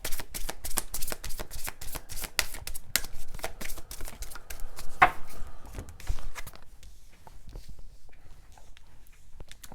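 Tarot cards being shuffled by hand, a rapid run of crisp riffling and slapping bursts close by for several seconds, thinning out toward the end into quieter, sparser flicks.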